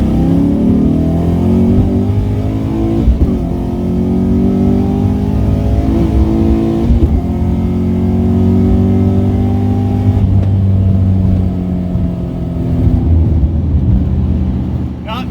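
A Pontiac GTO with a 224 cam and MSD intake accelerating, a loud, close engine roar with rising and falling pitch through several gear pulls, sustained throughout.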